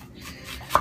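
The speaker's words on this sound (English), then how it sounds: "This is a really bad chopping job, but this is what we got." Food being chopped for sago dumplings with fish, a few soft knife taps on a board ending in one sharper, louder chop, close and alone.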